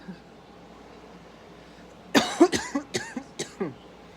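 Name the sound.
cough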